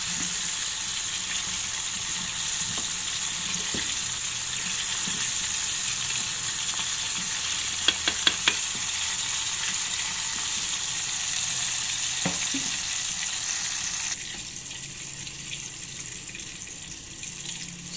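Chicken pieces frying in plenty of hot oil sizzle with a continuous, even crackle, a few small clinks of a utensil near the middle, then the hiss drops to a quieter level toward the end.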